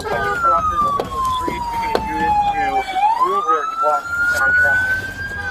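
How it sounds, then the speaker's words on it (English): A police cruiser's siren wails loudly, its pitch sweeping down and back up in a long yelp, with the vehicle's engine rumbling beneath. "With its lights and sirens activated, the cruiser was traveling along Adams Boulevard"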